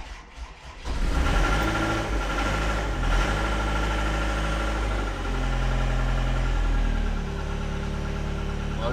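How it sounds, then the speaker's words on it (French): A tractor engine runs loudly and close with the throttle held open by foot, a steady, dense rumble with a slight dip in the middle and faint knocking throughout. "je vais tenir un petit peu le tracteur accéléré au pied"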